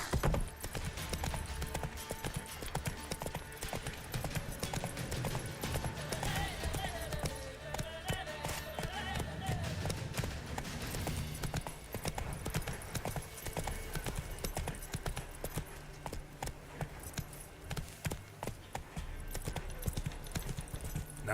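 A horse gallops in The Witcher 3, its hooves pounding in a fast, continuous clip-clop under busy game music and effects.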